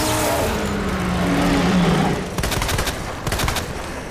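Gunfire erupts in the Resident Evil 2 Remake laboratory, two quick bursts of loud, sharp shots following a stretch of rumbling ambience, the second burst close after the first.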